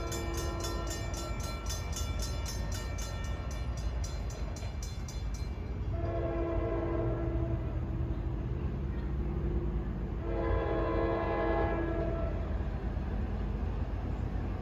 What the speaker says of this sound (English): the mechanical bells are sounding at the railroad crossings as 1623 comes in.